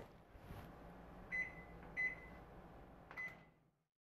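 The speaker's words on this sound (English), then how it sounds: "While your agarose is melting in the microwave, set up the casting stand." A microwave oven runs with a steady low hum while heating an agarose gel cup in a lab, with three short beeps sounding near the end before the hum cuts off.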